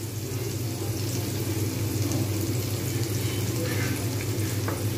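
Onions frying in a pan with ground garam masala, black pepper and fenugreek for an egg curry give a dense, even sizzle that holds steady throughout, close and continuous. A few faint stirring sounds sit under it and no one speaks.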